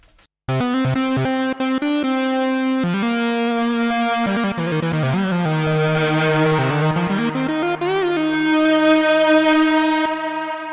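A bright, buzzy hard lead preset on an IK Multimedia Uno Synth Pro X plays a sustained melody with sliding pitch and rich harmonics, loud and continuous for about ten seconds.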